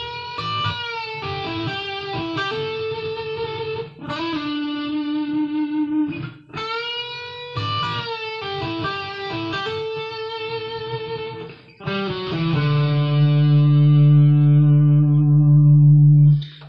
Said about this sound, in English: I use that phrase, but with quite a bit of distortion on it, and it sounded something like this